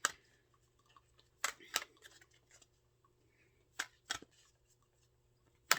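Tarot cards being shuffled in a few short, crisp bursts of riffling and snapping, fairly quiet, separated by stretches of near silence over a faint low hum.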